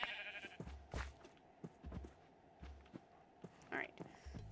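Minecraft sheep bleat several times in a hardcore survival world, short close calls spaced a second or so apart, mixed with soft blocky footsteps and faint background voice.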